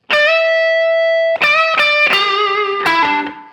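Distorted electric guitar plays a slow blues lick in E, using downstrokes in its second half. A long held note opens, then a few picked notes follow, loud and saturated with ringing sustain, with no voice over it.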